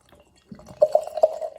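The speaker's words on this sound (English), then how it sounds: "Little sound effects there as I pour the Mind Haze into the glass." Mind Haze IPA glugs from a can into a glass, a close run of bright splashing and bubbling pours that builds over about a second, with no talking.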